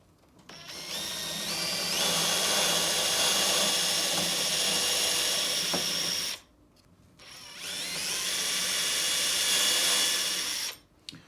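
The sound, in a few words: drilling holes in wooden crossbeam rafters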